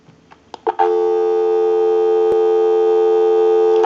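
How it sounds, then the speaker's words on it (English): A couple of faint clicks, then a steady, loud telephone dial tone hums continuously without a break, from a repaired payphone. "Go ahead and give you some dial tone."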